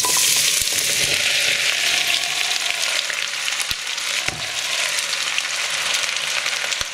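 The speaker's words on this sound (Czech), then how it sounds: "Takže dáme si olej a na to dáme kořenovou zeleninu." Root vegetables frying in hot oil for a Czech svíčková sauce with pork, a steady, loud broadband sizzle that holds for several seconds, with a few sharp clicks and stirring knocks on top.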